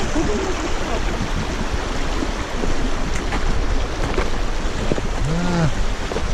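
Snowmelt from Mount Hood runs down a stream along the Elk Meadows trail, a steady close rush of water with no break, and a brief whistling tone near the end.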